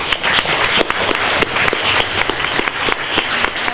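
Loud, dense applause from an audience at a youth hackathon show-and-tell, continuous clapping close by with a few sharper claps standing out.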